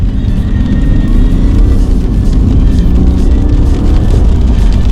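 A modified BMW M5-style car tuned toward about 400 brake horsepower accelerates hard on a test drive, its engine a loud, continuous low roar heard from inside the cabin, with no talk over it.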